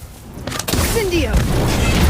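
Incendio fire spell exploding in the Harry Potter Magic Awakened game, a sudden low boom that swells into a sustained rumbling burst, loud and close, with game voices over it.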